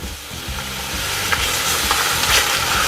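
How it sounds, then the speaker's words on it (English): Oxtail meat sizzles loudly in a hot pan, a steady crackling hiss that builds slightly, with faint stirring scrapes underneath. "Love that sizzle."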